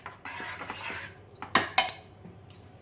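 A metal spoon stirs sugar into a glass of wood-apple (bael) and yogurt sherbet, with soft scraping and several sharp clinks against the glass. The sounds are close, quiet and irregular, with no voices.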